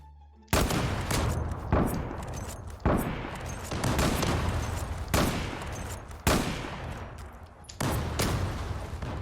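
Explosions and heavy gunfire ring out in the Zula online shooter, where a grenade has been thrown: six or so loud blasts arrive every second or two, each fading into a noisy tail, with no talking.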